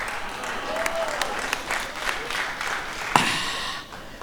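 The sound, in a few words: audience clapping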